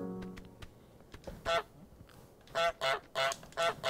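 Repeated loud goose honks from Untitled Goose Game, a burst of several close, nasal calls in quick succession after some quieter game noise.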